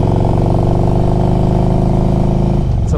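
A 2004 Harley-Davidson Electra Glide Ultra Classic FLHTCUI on a test ride, its engine a loud, close, steady deep rumble with a throbbing low pulse that shifts slightly near the end.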